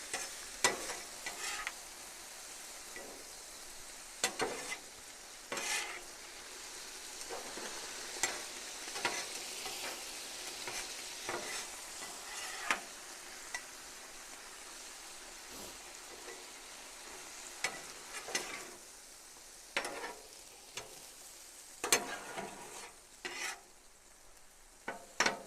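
Sweet and sour chicken with vegetables fries on a griddle, giving a steady, soft sizzle broken by frequent sharp scrapes and taps of a spatula stirring the food.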